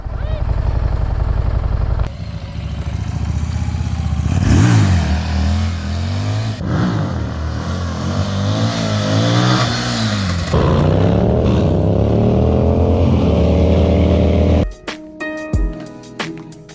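A Harley-Davidson Street Rod 750 motorcycle idles, then revs and pulls away with rising and falling engine pitch through several gear changes, loud and close at first, with wind noise and a sharp clunk near the end.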